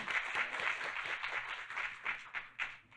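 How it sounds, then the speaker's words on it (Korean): An audience at a Korean ESG and social value conference claps steadily for a few seconds, a dense indoor patter of many hands with small surges in rhythm. "뜨거운 박수 부탁드립니다."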